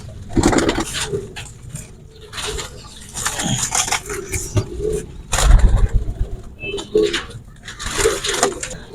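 Pigeons coo in low repeated throaty bursts around a coop where young birds are kept, close by and intermittent, mixed with rustling and other background noise.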